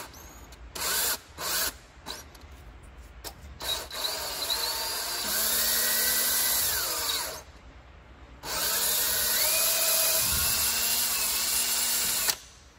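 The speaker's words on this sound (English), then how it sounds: "I think maybe by chucking it into the drill like that, I can spin the wire" A power drill chucked with a wire spins it, giving several short bursts, then two long whirring stretches with rising and falling pitch, separated by a brief pause.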